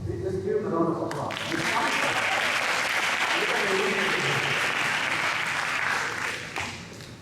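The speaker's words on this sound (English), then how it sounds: "let's give him a round of applause." Audience at a mental health and wellbeing talk breaks into a loud, full round of applause after a brief moment of speech, the clapping holding steady for several seconds before tapering off.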